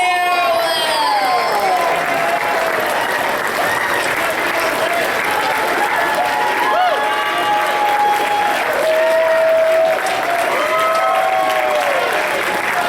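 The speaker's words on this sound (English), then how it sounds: "Come on up for a big round of applause." Loud, sustained applause with cheering and whoops from a large audience at a convention's closing ceremonies, steady throughout with scattered shouts rising above the clapping.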